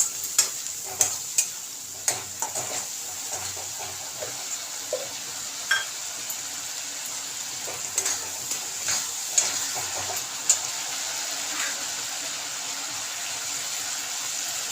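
Spices with turmeric being stirred and sautéed in a pan for a pomfret-style fish dish; a continuous hissing fry with frequent sharp spatula scrapes and taps in an irregular rhythm, close and without talk.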